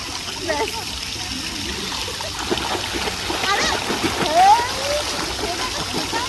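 A person swims in open water, with close splashing and sloshing strokes throughout while people talk over it.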